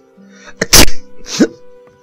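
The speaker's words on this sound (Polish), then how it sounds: "Ale w końcu kichłem, tak mnie kręciło w nosie" A single sharp, loud human sneeze during a playthrough of Gothic II: Night of the Raven, with a short intake and a second smaller burst of breath after it, alone with no talking.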